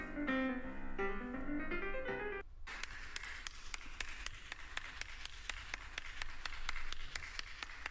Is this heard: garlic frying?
no